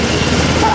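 A military helicopter at an air show touches down, its rotor and engine roar loud, steady and close for a brief moment.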